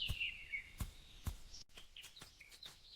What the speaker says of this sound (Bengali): ওটা কাঠঠোকরা পাখির শব্দ, গাছে গর্ত করছে।